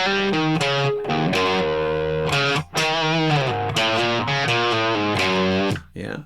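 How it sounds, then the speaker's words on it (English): Distorted electric guitar plays a riff slowly, thick saturated chords and bends in a chugging two-bar pattern, loud and close with brief gaps between phrases. "So if I put the riff together slowly, the 2 bars sound like this."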